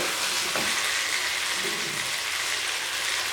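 Chicken pieces roast in a hot pan for biryani, giving a steady, close sizzle and frying hiss that runs unbroken throughout with no talking.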